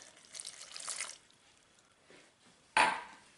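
Half a cup of warm water poured onto yeast for homemade pizza crust: faint, brief splashing and trickling, ending in one sharper, louder splash.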